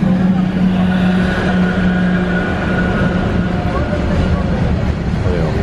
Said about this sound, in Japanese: はい、電車が来ました。 ちょっとゆっくりです。